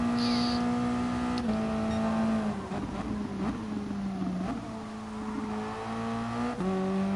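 Engine note of a Toyota race car in a sim racing game at Brazil, a steady high drone that dips as the driver brakes for a corner and climbs again through upshifts.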